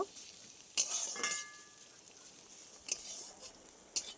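Onion, garlic and dry red chillies being stirred in a pan with a little oil, a soft faint sizzle broken by a few sharp utensil scrapes and clinks, quiet and close.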